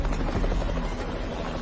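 A gendarmerie helicopter flies over the village of Bouloc and its surroundings during a search, its steady rotor thrum and engine buzz loud and continuous throughout with no talk.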